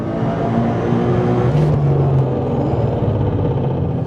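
A 1000hp Nissan GTR race car drives at full attack on a track, a dense continuous engine roar and rumble heard close from inside, with a brief shift in pitch midway.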